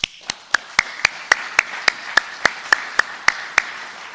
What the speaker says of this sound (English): So I want to give you a round of applause